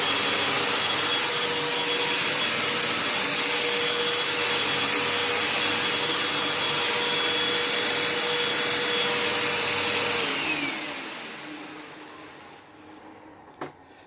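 Hoover Elite Rewind Plus upright vacuum running on medium pile carpet, a loud steady motor roar with whine that holds for about ten seconds, then drops and sputters as it is lowered and shut down.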